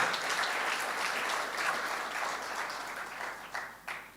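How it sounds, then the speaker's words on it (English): An audience at a World Philosophy Day keynote applauds steadily for several seconds after a prime minister is introduced, a dense, moderately loud clapping that thins toward the end with a few louder individual claps. "Give a big clap to my Prime Minister, Tun Dr. Mahathir."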